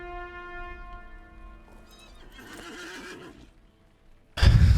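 A horse mount in the online game Lord of the Rings Online lets out a loud, close whinny that trails off into snorts and rustling, before an abrupt, loud burst of noise at the end.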